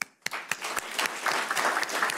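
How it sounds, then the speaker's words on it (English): Applause for paramedic graduates at a county fire and rescue graduation ceremony, starting with a few distinct claps that quickly build into fuller, moderately quiet clapping from the audience. "Yes, you should clap for yourselves for that."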